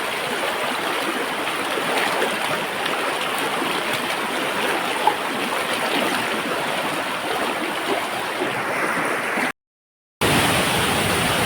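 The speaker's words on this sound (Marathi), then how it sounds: "पाणी बघू शकते बघा किती प्रेशरने पाणी आहे" A stream flows under strong pressure in crab-catching country, producing a loud, steady, close rushing that breaks off briefly near the end.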